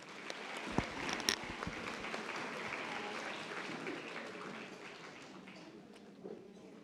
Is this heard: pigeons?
no